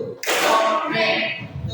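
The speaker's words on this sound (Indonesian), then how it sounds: "Tepuk satu." A group claps in unison as a classroom drill's first count: one dense burst of hand clapping that swells and rings on for about a second before fading, fairly close and loud.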